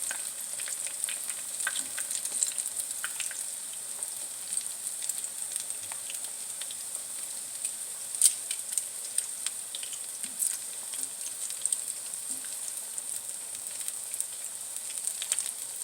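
Banana cue frying in hot oil gives a steady, faint bright sizzle with scattered small pops and crackles throughout, close by and uninterrupted by speech.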